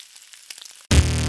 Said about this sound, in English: Wait, do you hear that sizzle?